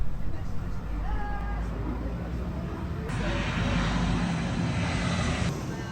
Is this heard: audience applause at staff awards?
no